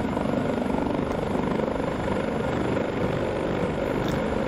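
Eurocopter AS565 helicopter engine and rotor in X-Plane 11 over Manhattan, a loud, steady, continuous drone with a dense rhythmic rotor thrum holding constant throughout, no voices.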